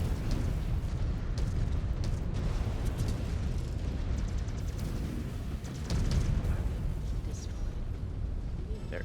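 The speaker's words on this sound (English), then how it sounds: "Timberwolf's getting cocky and just shooting missiles at me now" In MechWarrior 5, an enemy Timberwolf mech fires volleys of missiles, a dense continuous rumble of blasts and booms with sharper crackling impacts scattered throughout, loud and sustained.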